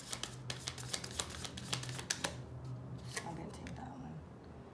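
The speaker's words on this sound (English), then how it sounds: "Last shuffle, then I take from the middle." Tarot cards being shuffled in quick riffling bursts with soft flicks, close by and quiet, over a low background hum.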